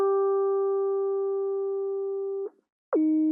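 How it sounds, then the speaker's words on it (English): A Rhodes-style lead synth patch from Omnisphere, built for a remake of a track, holds one long steady tone. It breaks off briefly, then returns as a short sliding note, clean and up close with no other sounds. "we also have this Rhodes lead, which is pretty much the same exact sound as this one that I got from Omnisphere"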